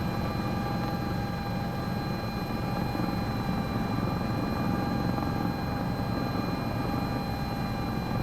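An S76 helicopter in a flight simulator game drones continuously with a low rotor rumble and steady whining engine tones, loud and unbroken throughout.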